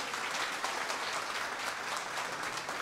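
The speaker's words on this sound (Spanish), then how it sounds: "Muy merecido aplauso." An audience at a Christian family movement gathering applauds in a steady, dense wash of many hands clapping, holding at an even level throughout with no voices on top.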